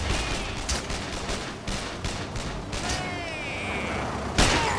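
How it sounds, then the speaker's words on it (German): Sharp rifle shots crack in the sniper video game Sniper Ghost Warrior, several reports with echoing tails amid gunfire and game effects, with someone talking in German. "habe ich den geil abgefeuert, den Schuss"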